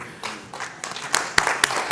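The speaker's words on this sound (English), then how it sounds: "Yes, go ahead and clap." Scattered audience clapping at an economic investment summit fireside chat, building in uneven bursts with a few sharp individual claps rising toward the end, fairly distant.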